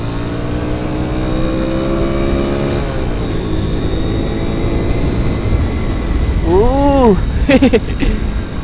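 A Honda Astrea motorcycle accelerates off-road across rice paddies and a river, its engine note climbing steadily and then revving in rising and falling surges near the end, loud and close throughout.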